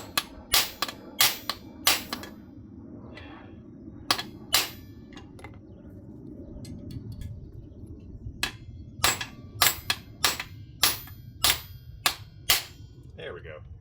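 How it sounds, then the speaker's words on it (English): Metal strikes from a small hammer on a John Deere 1219 cutter bar ring out in sharp, close bursts, some in quick pairs and runs, with pauses between groups over a low background hum. "I'm getting a smaller hammer for now. Okay, smaller hammer. Fits in the hole a little bit better."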